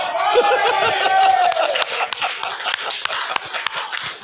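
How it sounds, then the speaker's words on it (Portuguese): Worshippers at a church service clap in scattered, uneven bursts, mixed with voices and some chatter, after a short stretch of someone speaking. "eu quero dar uma forte salva de palmas ao Senhor Jesus"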